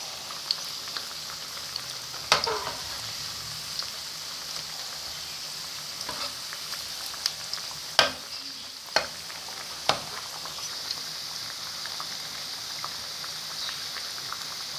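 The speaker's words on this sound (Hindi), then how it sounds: "फिश को फ्राई करने के लिए तकरीबन 8 से 10 मिनट तो लगेंगे" Rohu fish frying in oil in a pan over normal heat, a steady crackling sizzle throughout with a few sharp pops and spatters standing out, moderately close and alone without talk.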